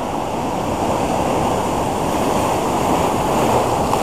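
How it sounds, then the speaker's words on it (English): Big ocean waves break into whitewash on a beach during surf fishing, forming a loud, continuous roar of churning surf, with wind buffeting the microphone and no voices. "Conditions right now are big waves, a very short interval, creates a lot of whitewash."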